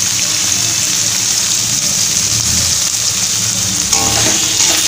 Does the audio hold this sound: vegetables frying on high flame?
yes